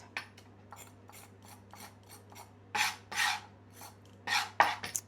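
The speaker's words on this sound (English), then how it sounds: "grate a carrot" A carrot rasped against a metal grater in a run of short, scraping strokes, the later strokes louder and longer, close up with no talking.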